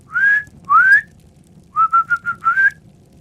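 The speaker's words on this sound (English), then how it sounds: "I whistled gently" A person whistles gently in a quiet room: two soft rising notes, a pause, then a quick run of four or five short whistled notes ending on a rising tone.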